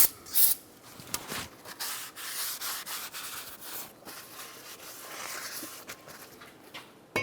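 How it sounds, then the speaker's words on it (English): Someone scrubs and wipes the braking surfaces of a new front brake rotor for a 1994-2002 Dodge Ram 2500, producing close, uneven rubbing strokes with short pauses between passes. "make sure you clean both of the braking surfaces"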